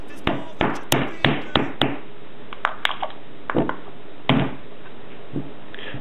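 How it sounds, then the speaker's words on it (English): Sharp metallic hammer taps drive a thumbtack held in pliers into metal for a penny can stove, a quick regular series of about six, then a few scattered knocks follow, close and fairly loud with no talking. "grip it in some pliers"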